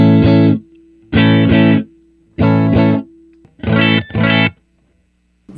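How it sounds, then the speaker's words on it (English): Stratocaster played through an OC75 Tone Bender MKII clone fuzz into a 5E3 amp, with no delay or reverb: five loud, thick, buzzy fuzzed chords, each ringing briefly, then cut short with gaps between. "I'm going to start out with no delay, no reverb, just a Strat into a 5E3."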